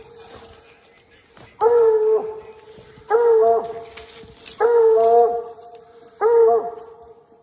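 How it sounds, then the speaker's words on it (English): A dog barks in four separate bursts, each a short cluster of loud, harmonic yaps spaced a second or so apart, over a faint background hiss. "A barking sound,"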